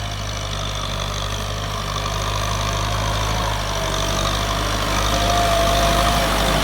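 A Mahindra M6240 tractor engine runs steadily nearby, a loud continuous low drone and rumble with no breaks, no voices over it.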